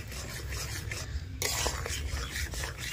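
A spoon scrapes and rasps against a pan while dry gujiya dough is stirred continuously, rough rubbing strokes repeating closely without any speech.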